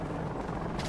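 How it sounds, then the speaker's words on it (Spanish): A helicopter in the video game Battlefield 2042 gives a steady, close rotor and engine roar that fills the whole short moment, with a brief brighter swell near the end. "Helicóptero."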